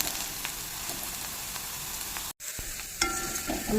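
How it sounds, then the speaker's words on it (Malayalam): A snack deep-frying in oil gives a soft continuous bubbling sizzle, with stirring scrapes and clinks over it. A brief silent gap comes partway through, then slightly louder frying and stirring resume. "ഇത് നന്നായിട്ട് ഫ്രൈ ആയാലാണ് ഇതിൻ്റെ എണ്ണ കുടിക്കില്ലാത്ത"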